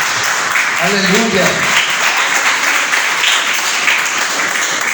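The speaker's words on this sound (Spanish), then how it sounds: "Denle un aplauso al Señor." Church congregation applauding the Lord, a steady broadband wash of clapping throughout, with a voice calling out over it near the start.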